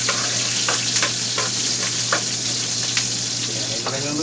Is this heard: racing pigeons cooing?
no